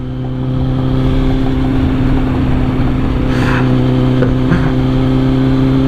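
A Kawasaki Z800 motorcycle engine drones steadily while riding, a loud sustained hum with a faint rise partway through, heard up close with no talking.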